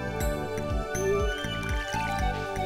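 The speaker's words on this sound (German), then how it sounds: "Jetzt noch kurz gießen." Watering crops with a watering can in Stardew Valley: soft splashing and tinkling water effects sit under steady, looping game background music.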